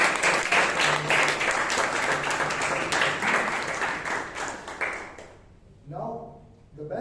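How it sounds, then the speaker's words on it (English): A Toastmasters meeting audience in Bangalore gives a round of applause, dense and steady clapping for about five seconds that stops abruptly, followed by a speaking voice. "give a round of applause for."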